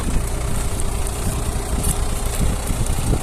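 A TD75D tractor engine labours under load while ploughing, a steady loud low rumble and vibration throughout with no pauses.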